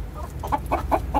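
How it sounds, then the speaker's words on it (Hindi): Aseel hens and roosters for sale at a farm in Al Mafraq, Abu Dhabi, clucking in a few short, close bursts over a steady low background hum. "मुर्गियां भी है बीच में मुर्गे भी है"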